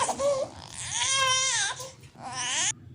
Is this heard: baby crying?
yes